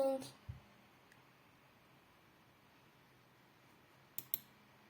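Computer mouse clicks on a Windows laptop, a quick click near the start and a pair of sharp clicks toward the end, faint and close against a quiet room hiss.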